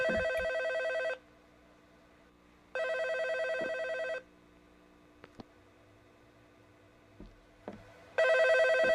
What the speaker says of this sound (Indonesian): Ah, telepon. Oh, ini ada telepon guys.